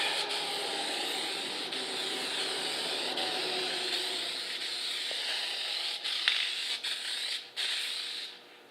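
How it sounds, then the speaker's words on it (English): A steady aerosol spray hisses continuously for several seconds during a headlight restoration, close and fairly loud, tapering off with a few brief breaks near the end. "I'm going to do a test shot just to make sure the spray can's working properly."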